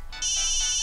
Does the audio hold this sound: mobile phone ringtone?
yes